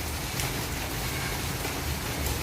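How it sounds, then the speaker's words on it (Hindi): Continuous rain falling steadily, a dense, even wash of drops pattering on surfaces with no pauses and no voices. "देखिए कंटिन्यूसली बारिश हो रही है"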